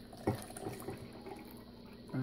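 Water pours into a Canadian IMP ration pouch of sweet and sour pork, a brief close splash and trickle followed by soft pouring that picks up again at the end, with no talk.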